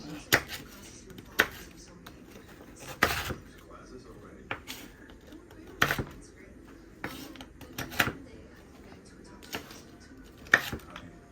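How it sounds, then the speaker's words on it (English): Oreo cookies are chopped with a knife on a board in sharp, irregular thwacks, about a dozen crisp cuts spread out over quiet background. "Chop up some more Oreos to add to the batter."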